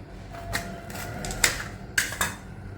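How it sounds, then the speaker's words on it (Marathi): Knife chopping small green chillies for pickle, a few sharp clicking cuts against a board, quiet and close with short pauses between strokes. "आता ही जी छोटी मिरची आहे ही अशी कापायची"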